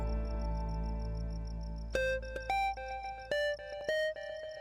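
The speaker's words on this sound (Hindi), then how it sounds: "किसका फोन है बेटा?" A phone rings with a series of bright electronic tones in short bursts, repeating several times after a low, steady hum.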